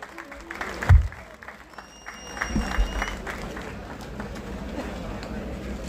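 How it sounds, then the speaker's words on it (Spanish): A crowd applauds steadily and loudly at a carnival queen's coronation in Barrio El Calvario, San Alejo, with a sharp thump near the start and the clapping carrying on to the end, voices mixed in. "Y la recibimos con un fuerte aplauso."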